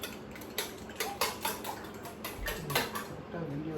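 Eggs are beaten in a bowl, producing a quick run of close, rhythmic clicks and taps of a utensil against the dish, fairly quiet and steady.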